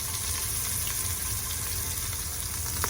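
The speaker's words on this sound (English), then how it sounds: "so the meat is seared on all sides" A beef roast for Cuban-style boliche sears in a hot pan, giving a loud, steady crackling sizzle that holds throughout with no talk.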